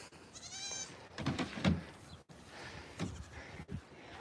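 A goat on a farm bleats in a wavering, nasal call near the start, followed by quieter shuffling and a second fainter bleat later, moderately close in a calm outdoor setting.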